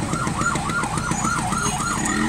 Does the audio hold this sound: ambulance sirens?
yes